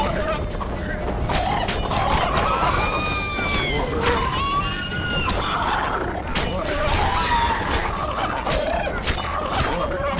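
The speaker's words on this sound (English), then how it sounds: "God, they sound like angry chickens." Creatures in The Witcher 2 video game squawk and screech like angry chickens, several rising and falling calls scattered over a dense, noisy game soundscape with mechanical clatter.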